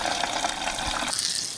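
Water runs from a tap into a bottle, a steady gushing pour whose tone shifts partway through as the bottle fills, close by and without speech.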